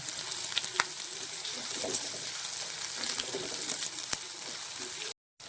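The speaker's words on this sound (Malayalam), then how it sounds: "ഇനി നമുക്ക് ഇതിലേക്ക് എടുത്ത് വെച്ചിരിക്കുന്ന ഉള്ളിയും പച്ചമുളകും കൂടി ചേർത്ത് കൊടുക്കാം. നന്നായിട്ടൊന്ന് വഴണ്ട് വരട്ടെ." Sliced onions and green chillies sautéing in oil in a pan: a continuous bright sizzle with small crackles and pops, fairly close, cutting out for a moment just before the end.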